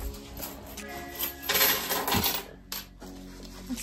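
Coins tumbling out of a small change purse, a close, bright cluster of metallic clinks and jingles that peaks midway and settles into a few scattered rattles.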